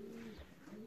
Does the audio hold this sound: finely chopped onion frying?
no